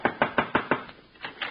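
Knocks on a door as a radio comedy sound effect: five quick, evenly spaced raps, a short pause, then two more, crisp and close with no voices.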